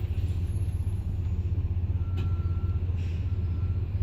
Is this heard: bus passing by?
yes